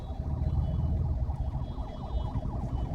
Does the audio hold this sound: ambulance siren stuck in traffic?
yes